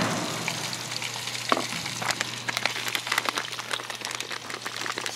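Two kinds of potatoes and garlic sizzle and crackle on a propane barbecue outdoors near Half Dome in Yosemite, with a dense, continuous frying hiss and rapid popping that grows busier toward the end.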